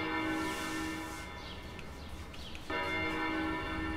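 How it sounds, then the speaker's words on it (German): Church bells ring in the tram-driving game City Transport Simulator, a sustained, shimmering peal that fills the scene, briefly dips, then swells back at full strength with faint ambient sounds beneath. "Aber schön auch, dass die Kirche läutet."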